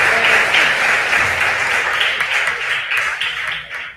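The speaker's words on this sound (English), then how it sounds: "Please clap for them." A school audience applauds teams at a regional junior school quiz contest, a loud, continuous crowd clapping with a steady patter that fades slightly toward the end.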